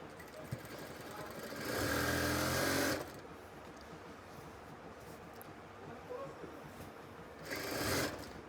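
A sewing machine runs two short bursts while stitching a zipper seam at a kameez neckline, each a quick whir of about a second, separated by a quieter stretch of light handling noise, close by.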